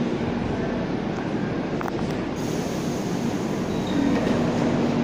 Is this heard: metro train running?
yes